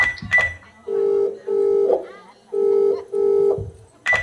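An outgoing phone call plays its ringback tone: two pairs of steady, buzzy purring rings with short gaps between them, heard close and clearly. A voice speaks briefly before the rings and again at the very end.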